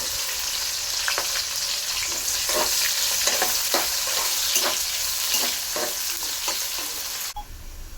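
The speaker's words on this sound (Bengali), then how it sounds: "যখন লাল হয়ে গেলে দিয়ে দিব পেঁয়াজ কুচি।" Chopped onion frying in hot oil, a steady close sizzle broken by repeated scraping stirs of a spatula against the pan, ending abruptly near the close.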